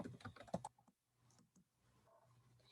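Typing on a computer keyboard while writing HTML list code, a burst of quick close clicks at the start, then faint scattered keystrokes and soft room hum.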